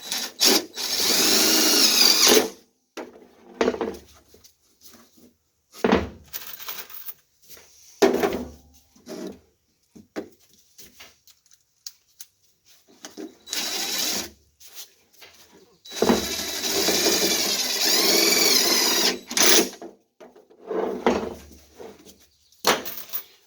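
A power drill drives screws into a bird bath form in repeated whirring bursts of varying length, separated by short silent gaps, loud and close.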